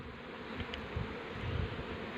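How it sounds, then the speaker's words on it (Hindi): Honey bees buzz in a steady, dense drone around a beehive, fairly close and continuous, with no voices. "मक्खी कितना अच्छा वर्क कर रही है।"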